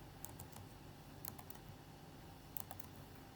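Keys clack on a computer keyboard as numbers are entered, in short clusters of quick taps over a steady low background hum, close and fairly quiet.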